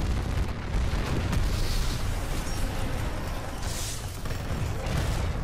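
Titan mech exploding in Titanfall 2, a dense roaring blast with rumbling low-end debris sustained over several seconds, loud and continuous with bright bursts partway through.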